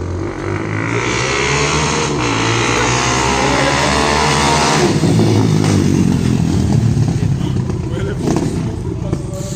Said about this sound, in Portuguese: A motinha do poderoso aí, ó.